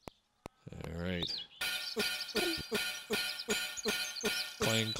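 Metallic clangs sound from the 1994 PowerMonger strategy game on Sega CD: a few sharp clicks and a short tonal jingle, then a steady run of ringing clangs at an even pace over a busy noisy bed.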